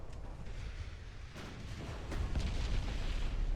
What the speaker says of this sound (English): It's the 12-inch guns followed by the 9-inch guns that are definitely dealing the most damage here.